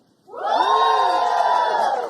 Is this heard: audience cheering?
yes